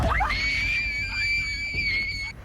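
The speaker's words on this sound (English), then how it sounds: "loud scream sends the girls running in terror" A sudden loud scream rises sharply and holds as a long, piercing, sustained high cry for about two seconds, close and alone before cutting off, in a scary ghost-hunting setting.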